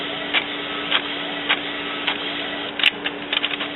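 Epson Expression XP-600 inkjet printer with a continuous ink supply system printing solid areas, giving a steady mechanical whir with a hum beneath and short regular clicks as the print head moves, close and alone.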